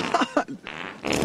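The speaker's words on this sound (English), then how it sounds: "The camels consistently fart the entire time." Camels fart in a comedic scene from the movie Kangaroo Jack, a quick series of loud, close, sputtering blasts with no talking.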